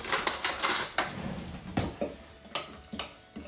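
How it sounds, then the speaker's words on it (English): A spoon clinks repeatedly against the inside of a jug while dissolving sugar in hot water, quick metallic taps slowing into a few spaced strikes, close up with no talking. "Pop it in and give it a stir until it's dissolved now"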